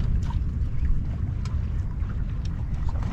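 Motorboat moving steadily while trolling for horse mackerel near the beach at Mamaia, a constant low engine and hull rumble with water wash and wind buffeting the microphone, no talking.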